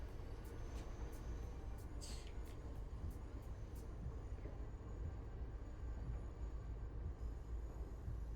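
An MBTA commuter train in Train Sim World 5 rolls along on one notch of power, a low steady rumble with rail hum and a few faint high clicks, heard at low level.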